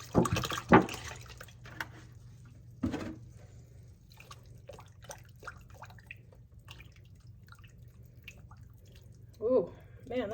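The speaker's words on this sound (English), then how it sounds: "And then I just need to use up this milk" Milk poured into a pot of clam chowder makes soft liquid trickles and drips, faint and close, with brief bursts of talk near the start and end.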